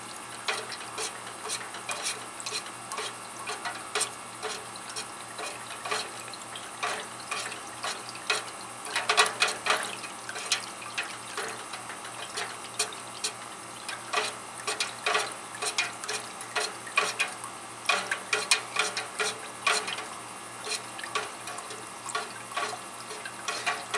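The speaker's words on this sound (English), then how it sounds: "mixing cold ingredients with hot, so you want to kind of take it a little bit slow. All the while stirring." A hot beeswax waterproofing mixture is stirred steadily, giving a faint, continuous scraping and ticking with irregular clicks and a low hum underneath, with no talk.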